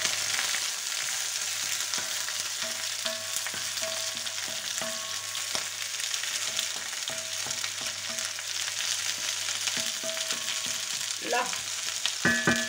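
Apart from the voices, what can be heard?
homemade paella sizzling as it cooks in the pan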